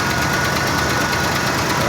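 A 1976 Ford F150 pickup with a 390 engine, oily and running rough, drones steadily and loudly at close range with a dense, uneven mechanical roar that stays constant throughout.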